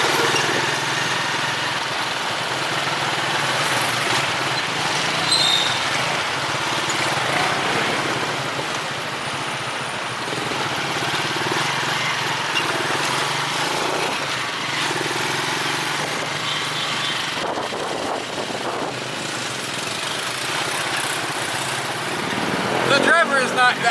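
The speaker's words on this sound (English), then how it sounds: "we found a motorbike that's like the version of the bicycle thing we were on earlier, but this guy's got an engine" Motorbike taxi engine buzzing through Manila traffic, a continuous rough drone with wind and street noise, loud and close, under occasional talk from riders.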